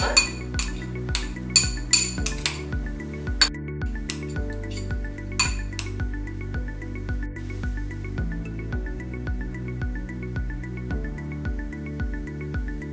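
Raw papaya salad tossed with vegetables and dressing in a bowl, with repeated clinking of a utensil against the bowl in an uneven rhythm, loud and close, with no talking.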